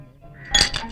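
Coins lifted out of a metal kitchen vessel during a domestic comedy scene, a short bright metallic clink near the end after a quiet lead-in.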